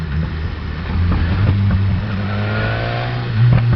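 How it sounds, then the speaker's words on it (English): A loud motorbike rides along a rough, potholed road, its engine droning steadily close by and rising in pitch as the throttle opens near the end. "This is where it helps having a louder bike."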